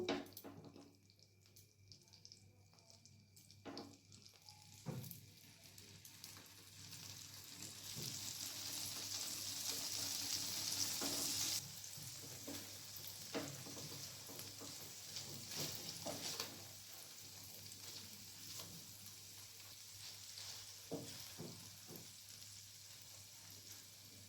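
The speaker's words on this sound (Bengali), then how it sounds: "এরপর পনিরগুলোকে হালকা ভেজে নেব" Paneer pieces fry lightly in butter with a spoon of white oil, a steady soft sizzle rising and settling with occasional clinks and stirring noises, no talking.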